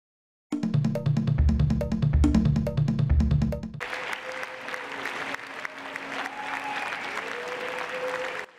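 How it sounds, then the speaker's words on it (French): Diplomats applaud an amendment to the Montreal Protocol on ozone layer protection, a sustained burst of clapping from a large hall lasting a few seconds before giving way to a quieter room ambience with murmuring. "L'amendement au protocole de Montréal sur la protection de la couche d'ozone, copieusement applaudi par les diplomates"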